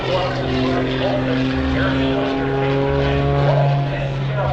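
Propeller airplane at the Oshkosh airshow pulling into a very tight inside loop, its engine drone steady and loud with rising and falling harmonics as it maneuvers, while a commentator talks over it.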